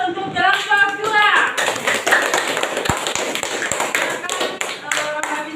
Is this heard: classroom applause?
yes